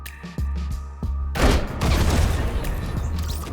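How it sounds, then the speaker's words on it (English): Cannons in Fortnite Season 8 launching two players at each other: a muffled low thump or two, then a loud burst of booming explosive blasts that rumble on for a couple of seconds. "two people firing themselves at each other from cannons"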